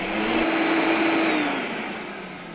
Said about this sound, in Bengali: এইখানে যে ব্লেন্ডার দেখতেছেন ব্র্যান্ডটা হলো আপনার কিয়াম ব্র্যান্ডের